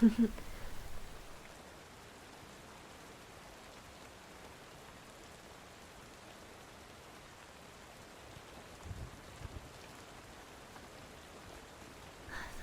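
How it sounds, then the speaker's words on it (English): Steady rain falls throughout, a soft, even hiss of drops on a surface. It plays quietly and continuously with only slight swells. "Hopefully the rain sounds keep you company whenever I'm quietly thinking about stuff"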